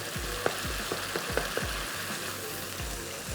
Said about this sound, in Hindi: आँच को हमने तेज़ कर दिया है ताकि हम इसको अच्छा सा भून लें